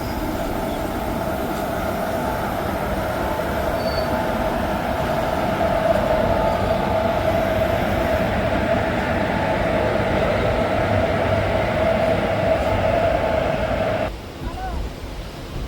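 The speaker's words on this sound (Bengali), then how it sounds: "ট্রেন আমাদের ছেড়ে দিল আজিমগঞ্জ জংশন স্টেশন" A Ganadevta Express train pulls out of Azimganj Junction station, its steady rumble and rolling wheel noise continuous and loud from inside the carriage, with a faint whine running through and the sound dropping off near the end.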